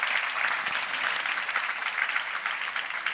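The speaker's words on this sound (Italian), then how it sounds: "Un applauso anche" An audience gives sustained applause after a talk, an even, fairly soft bed of many hands clapping that holds steady throughout.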